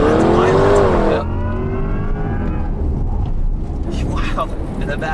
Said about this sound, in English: feather the throttle and launch wherever you like